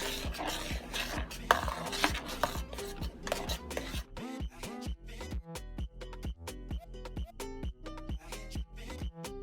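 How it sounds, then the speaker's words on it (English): A spoon scrapes and knocks around a pot of Jamaican banana porridge in steady rhythmic strokes, close and clear, busy and wet at first, then turning into sharper regular taps. "Don't forget, you have to keep stir it, because if you don't, it's going to get lumpy"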